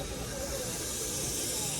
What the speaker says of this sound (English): this is a coal-powered steam locomotive